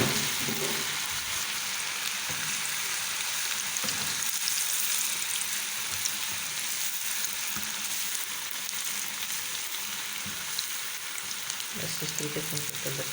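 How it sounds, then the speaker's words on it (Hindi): Small gram-flour boondi pakoras for motichur ladoo fry in hot oil, giving a dense, continuous sizzle like steady rain, even and close for the whole stretch. "अब हम इसमें छोटे छोटे पकौड़े डालते जाएंगे।"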